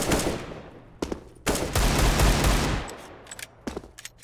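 In a Counter-Strike match on the Mirage map, short bursts and one sustained volley of rifle fire crack sharply. The sharp reports are followed by scattered single shots.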